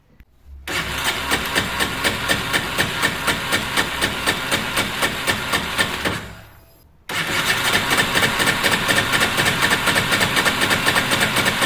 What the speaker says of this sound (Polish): Oczywiście na starym wtrysku motocykl chodzi